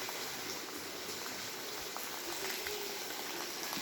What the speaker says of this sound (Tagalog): Ayan, mga bukal ang tubig dito, bukal.